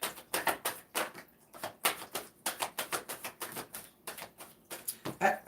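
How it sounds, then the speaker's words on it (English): Moonology oracle cards being shuffled, a steady run of quick, close riffling bursts repeating in rapid rhythm with no talking. "I just continued shuffling, but we'll take the two that I spit out"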